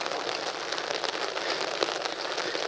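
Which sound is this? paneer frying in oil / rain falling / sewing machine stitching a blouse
rain falling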